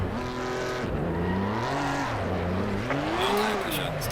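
A German race car in Assetto Corsa Competizione launches in first gear: the engine note climbs in repeated rising sweeps as it revs and pulls away, with tire squeal and a busy, close, loud engine throughout.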